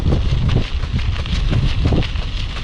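Morning wind at Nong Kang Pla reservoir in Phimai district, blowing steady and loud as it buffets the microphone with a broad, rushing noise throughout, with no talking.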